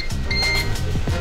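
A 3D printer riding inside a moving car gives off short electronic beep tones over steady low road rumble and the hum of the cabin.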